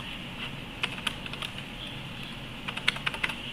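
Sparse, quiet clicks of typing on a computer keyboard while entering values into an HTML registration form, coming in small bursts of a few keystrokes each with short pauses between and no talking.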